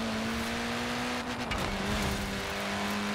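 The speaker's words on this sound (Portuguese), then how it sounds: "Ou então você acelera no meio do mato também" A car accelerating in the Forza Horizon 4 racing game, heard as a steady, loud engine drone with a sustained tone that shifts pitch midway as the revs change, running the whole time with no talk.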